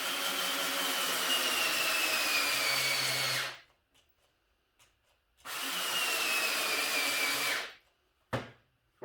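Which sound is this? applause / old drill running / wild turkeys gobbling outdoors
old drill running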